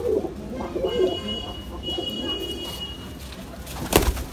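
Pigeons cooing softly in low, rolling calls, with faint background noise and a sharp clattering knock near the end.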